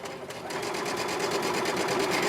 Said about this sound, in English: I'm just going to sew down that right side 1/4 inch seam just like when I pinned it